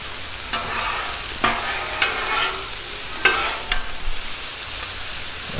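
Beef fried rice frying on a Blackstone griddle over medium-low heat, a constant close sizzle broken by several sharp scrapes and taps of a metal spatula against the flat-top.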